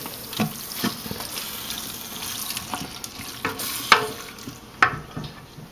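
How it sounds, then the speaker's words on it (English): Onions and vegetables for gumbo fry in a pot while being stirred, a low sizzle broken by several sharp scraping and clattering utensil strokes, no one speaking. "mix it up and heat it up to the point where the onions are more translucent"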